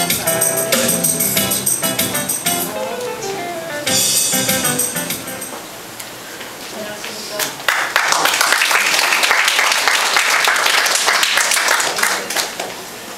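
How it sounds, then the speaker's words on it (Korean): Applause at a Korean inauguration ceremony for a memorial association's new president, building to sustained clapping after music in the hall. "큰 박수 주시면 감사드리겠습니다"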